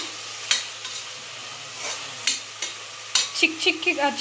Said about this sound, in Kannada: ಈರುಳ್ಳಿ ಚೆನ್ನಾಗಿ ಫ್ರೈ ಆಗಬೇಕು ನೋಡಿ